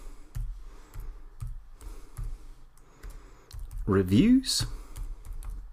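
Typing on a computer keyboard, a string of close, soft key clicks at an uneven rhythm, with someone speaking over the keystrokes partway through.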